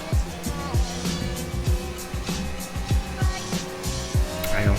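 A Formula 1 race car in the video game F1 2019 at the Australian Grand Prix, its engine rising in repeated rapid upshifts, each gear change cutting sharply before the revs climb again, loud and continuous throughout.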